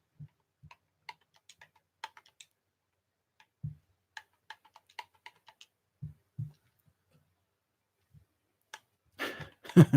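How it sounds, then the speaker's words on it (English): Someone types a name on a computer keyboard in scattered, soft, close clicks and taps with pauses between bursts, ending in a quick flurry of keystrokes; no speech. "that's always fun when you're typing in a name"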